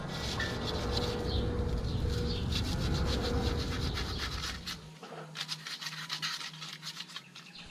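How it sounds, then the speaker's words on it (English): Sandpaper rubbing a brake caliper piston on a Mazda 323F, steady close scratchy strokes for several seconds, then fading to lighter, intermittent scraping. "Use a sandpaper to the brake piston carefully and beware of the rubber boot."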